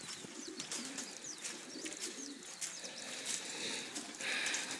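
Pigeons coo softly in a long aviary loft of 8 by 8 compartments in Puna, Hilo, Hawaii, with faint chirps, a brief flutter and steady outdoor ambience.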